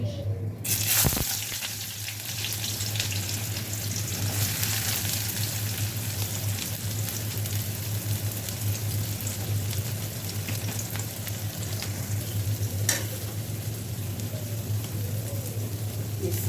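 Chopped onion frying with whole spices in a pan, a dense, even sizzle running steadily and close, with a faint clatter near the start and no talk.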